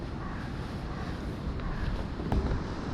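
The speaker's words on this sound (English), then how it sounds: "It's a very windy day today," Wind buffeting a microphone outdoors at a timber-frame summer house build site, making a constant low rumble with gusty swells and a brief stronger burst near the end.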